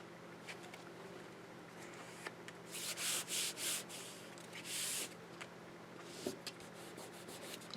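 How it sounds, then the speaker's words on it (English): Dried clear glue is rubbed off a decorative paper album page by hand, a few quiet, brushing scuffs in short bursts, close up and faint, with no talking. "Just rub it off like that."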